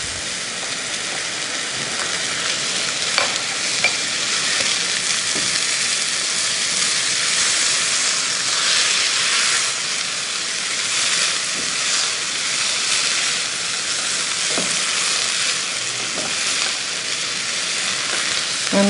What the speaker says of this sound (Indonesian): Menumisnya nggak perlu lama karena wortel udah direbus, kentang udah direbus, jadi tinggal diaduk-aduk rata gini aja udah selesai.